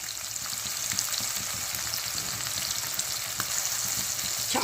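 Thinly sliced onions going into a hot frying pan for bitter gourd fry, giving a loud, dense, continuous sizzle and crackle close up, with no talking.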